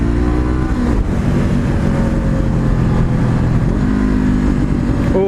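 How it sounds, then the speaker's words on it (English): A Honda CBR500R motorcycle's exhaust rises loudly and close as the bike accelerates through the gears, the engine note climbing, dropping at a shift and climbing again, with no speech. "Oh, that exhaust."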